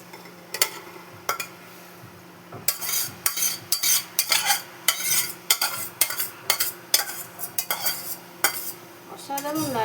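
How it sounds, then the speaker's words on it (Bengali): Mug posto curry served from a cooking pan, with repeated metallic clinks and scrapes of a spoon against the pan in an uneven rhythm over a faint background hum. "রান্না কমপ্লিট, এবার আমি সার্ভ করে নিচ্ছি।"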